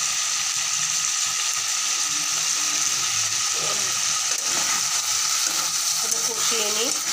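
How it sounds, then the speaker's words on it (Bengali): Onion frying in a pan for chicken curry gives a steady, close sizzle with occasional stirring scrapes and a brief metallic clink near the end. "এবারে পেঁয়াজটাকে অ্যাড করে দেবো।"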